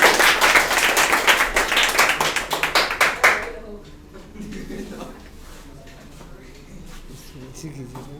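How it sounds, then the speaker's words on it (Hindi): Students in a Class 10 maths classroom burst into rapid, loud clapping for a pupil for about three seconds before it stops abruptly, and a voice then speaks quietly. "इनके लिए एक जोरदार ताली होना चाहिए"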